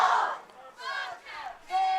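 A big homecoming crowd at a high school football game between Thermopolis and Rich County cheers and yells in swelling waves, loud and sustained, with a rising roar at the end.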